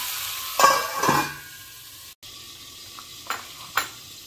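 Honey mustard chicken cooking in a pan, with a couple of sharp stirring scrapes and hissing bursts early on, then quieter intermittent sizzling.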